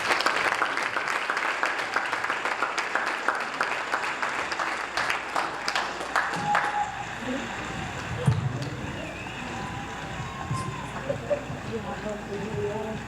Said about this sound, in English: Give that panel a round of applause.